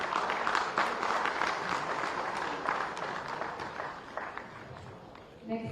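An audience at an awards ceremony for a security leadership summit applauds a winner, a dense spread of clapping that fades slightly toward the end.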